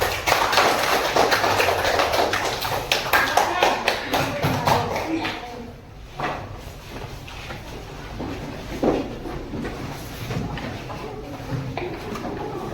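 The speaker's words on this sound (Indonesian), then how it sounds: "Tepuk tangan untuk kelompok 1 dan 4." Students in a classroom applaud a pair of student groups, a dense patter of clapping that is loud at first, then thins into scattered claps with some voices mixed in.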